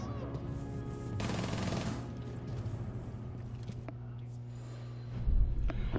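Rainbow Six Siege gameplay with SMG-11 gunfire. A rapid automatic burst rattles out near the start, followed by quieter game noise and a heavier thump near the end.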